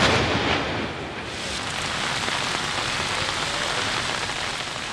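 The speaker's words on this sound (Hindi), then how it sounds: "फैसलाबाद में भी वक्फे से बारिश का सिलसिला जारी है" Heavy rain pours steadily in Faisalabad, a dense, even hiss of drops on surfaces that stays loud and constant throughout, with no voices.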